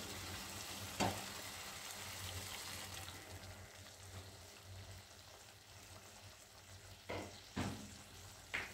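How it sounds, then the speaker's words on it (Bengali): Water is poured into rajma masala frying in a pan. A soft, steady sizzle runs throughout, with a few louder splashy bursts where the liquid hits the hot masala. It stays quiet overall, with no voices. "আমি মশলা ধোয়ার বাকি জলটা দিয়ে দিচ্ছি"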